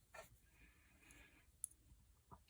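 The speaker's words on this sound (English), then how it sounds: "Got a little spring there, spring activated scissors" Small spring-activated scissors on a Leatherman multitool give a few faint, sharp clicks and snips in quiet surroundings, close by, with soft handling noise between them.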